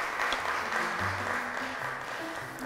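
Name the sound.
applause for both quiz tables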